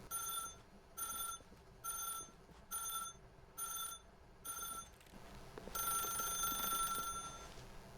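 A telephone rings in the video game The Stanley Parable, six evenly spaced bright electronic rings, then a steadier ringing tone that holds for a couple of seconds, with no talk.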